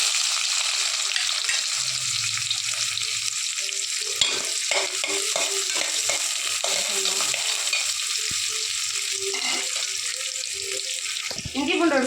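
Onions frying with curry leaves, garlic and green chilies in a pan, a steady close sizzle with occasional stirring clatter and a brief clink near the end, no talk.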